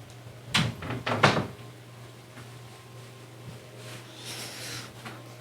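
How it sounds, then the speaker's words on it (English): A door swung shut against stray screams, heard as two fairly close knocking thuds in quick succession, followed by a softer rustle and faint hum in a quiet room. "Just closing the door against some stray screams"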